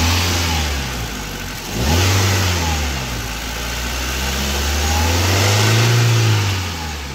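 A new car's engine idles and is revved twice during a pre-delivery inspection, each throttle blip rising and falling smoothly over a steady idle, close and loud with no talking.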